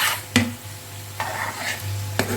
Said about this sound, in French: Maintenant, on va mélanger la viande